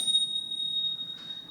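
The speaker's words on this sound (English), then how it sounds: "So when they hear this bell," A single small bell rings as a signal at a talk, a bright sustained ting that hangs and fades, with a second faint strike near the end, heard alone in a quiet room.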